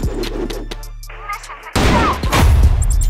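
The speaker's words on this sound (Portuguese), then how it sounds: "Dando tiro aleatório." Gunfire in the CrossFire shooter game: scattered shots over a low hum, then a loud burst of rapid firing and booming impacts in the final second and a half, with faint voices mixed in.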